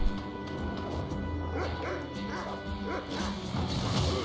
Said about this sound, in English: Of course, it's a dog.